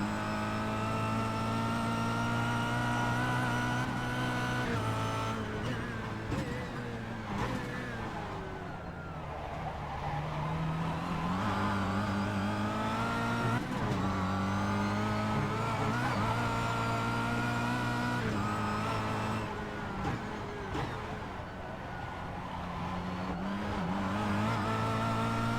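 A Kia race car in the BSR Kia Cup at Sebring, its engine loud and close, revving and droning continuously with pitch swells and dips through shifts and corners.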